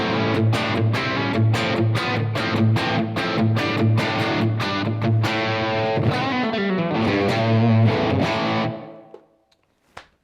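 Heavily overdriven electric guitar through a Blackstar AMPED 1 100-watt power pedal with gain raised chugs a rhythmic riff, then lets a gritty chord ring out and fade into silence, with a small final pluck.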